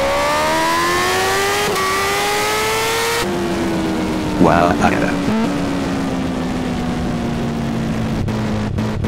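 A BMW S1000RR sport motorcycle engine revs loud and close, its steady rising whine climbing through the gears with a clear shift partway through, while a rider's short exclamation sounds briefly over the engine noise.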